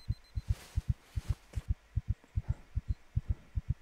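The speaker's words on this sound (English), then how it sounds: "Can you feel my heartbeat?" Steady double-thump heartbeat sound effect, a regular lub-dub rhythm repeating about a dozen times, close and prominent over a faint hum.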